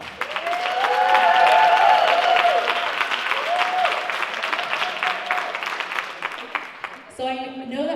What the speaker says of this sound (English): So let's give a round of applause for VAALA.